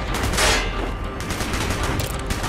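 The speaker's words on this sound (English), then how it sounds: "Gunfire's drawing attention." Dense, rapid gunfire from the Call of Duty Black Ops campaign crackles and booms loudly and continuously, with bursts layered over one another and no speech.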